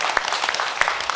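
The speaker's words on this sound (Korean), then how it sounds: "우리 여기 선생님 우리 한번 박수로 맞이하겠습니다." An audience claps to welcome a speaker at a Saturday Buddhist service, a dense continuous patter of many hands filling the short moment.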